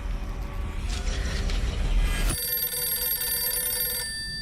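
A telephone rings in the video game Silent Hill f, a bright electronic ring that sets in sharply midway through and holds steady over a low, rumbling ambient background.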